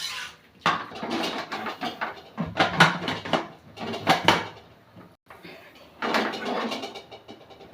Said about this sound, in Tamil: அரிசி போட்டு கிண்டி விட்டு குக்கர் மூடியை மூடி வச்சுருவோம்